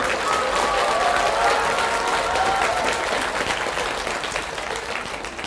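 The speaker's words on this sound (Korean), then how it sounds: "왜 박수를 치시는가 했습니다." A large audience gathered for a Buddhist lecture on the Diamond Sutra at Woljeongsa temple breaks into sustained applause, a dense, even wash of clapping that gradually eases off toward the end.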